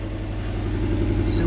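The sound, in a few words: Subaru boxer engine idling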